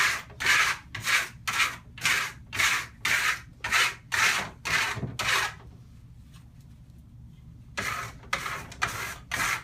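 A stainless steel trowel burnishes marmorino plaster in quick rhythmic rubbing strokes, a series of about a dozen scraping swipes with a brief pause before three more, close and fairly quiet, no talking.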